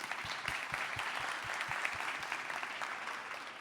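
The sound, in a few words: audience applause at a conference talk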